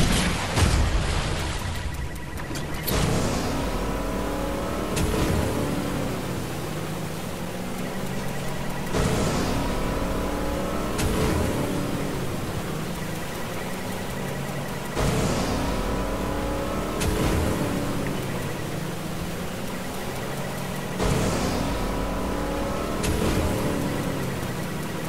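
Car engine in a video game, revving and accelerating loudly in repeated surges roughly every few seconds, with gear changes and a dull boom near the start, no talk.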